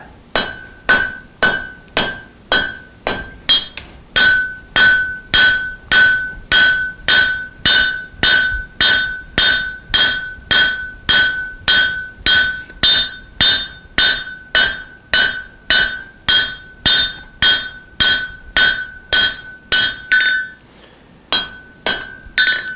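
Hammer blows on hot steel while drawing out and flattening a folded rasp axe at the forge, a steady, loud, ringing rhythm of roughly two strikes per second running nearly the whole time, with a brief pause near the start and end.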